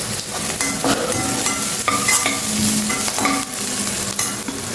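Chopped onions and carrots frying in a pan with turmeric, a steady sizzle broken by repeated scraping strokes of a spoon stirring the vegetables, close and moderately loud with no talking.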